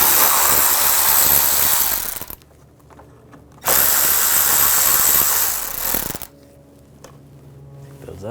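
Power tool or ratchet driving out bumper cover screws with an 8mm socket on a 2009-2010 BMW 535i xDrive, two loud bursts of about two seconds each with quiet pauses between, close up.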